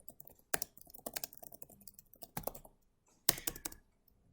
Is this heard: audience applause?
no